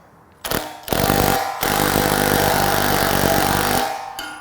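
An impact gun drives a 3/4 inch, 5-inch-long bolt holding a bronze bushing, giving two loud, sustained rattling bursts of hammering and whirring at close range that cut off sharply.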